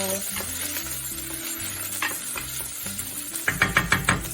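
Meatballs fry in a pan with a steady sizzle, some low rumbling, and a run of quick, rhythmic stirring and scraping sounds near the end.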